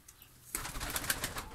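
Ornamental breeding pigeons in a Bursa loft make a soft, muffled cooing and rustling that rises suddenly about a third of the way in and continues at a steady, moderate level.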